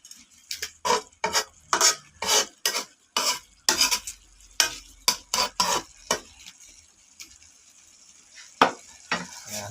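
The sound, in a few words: butter garlic prawns cooking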